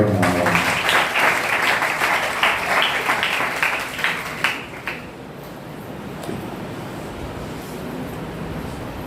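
A church congregation clapping during a Sunday service: brisk, rhythmic clapping that swells, then tapers off into quieter room noise and faint voices in the last few seconds.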